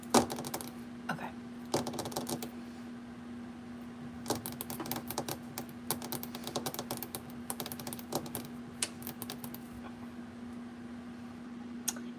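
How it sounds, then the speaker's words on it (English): Someone wearing fake nails types on a computer keyboard, making quick irregular bursts of sharp clicks and taps over a steady low hum, with brief pauses between runs. "It has been a minute since I've like really typed on a keyboard."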